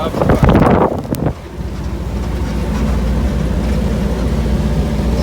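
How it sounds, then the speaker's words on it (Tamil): Heavy cyclone rain with strong swirling wind, a steady dense roar of downpour and gusts filling the whole stretch, louder and more turbulent at the start before settling into an even rush. "அப்படி மழை பெய்யுது, காற்றும் அப்படி சுழட்டி அப்படி அடிக்குது."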